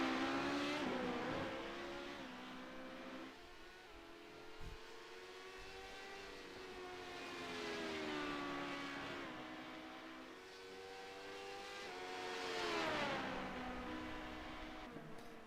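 A race car in a sports car racing game, driving down pit road, gives a faint, smooth engine tone that rises and falls in pitch in several slow sweeps, distant and steady with no voices.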